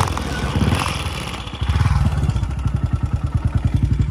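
A 2001 BSA motorcycle is kicked over and its single engine fires up, settling into a steady, close, loud thumping idle with a slightly uneven beat.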